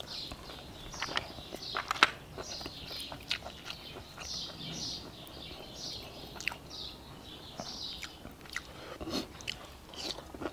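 Cooked snails, served with a chili dip, chewed with steady crunchy bites that repeat in a quick, uneven rhythm close to the mic. Faint background sounds run beneath the chewing.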